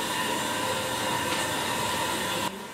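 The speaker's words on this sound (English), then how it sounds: "That is the sound of a leaking toilet." A toilet tank with a worn, leaking flapper refills with a steady, broadband rushing hiss of running water. It holds constant and close, then drops off abruptly near the end.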